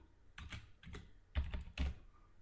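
Keys tapped on a computer keyboard while a command is typed, a few quick bursts of clicks close by in a quiet room.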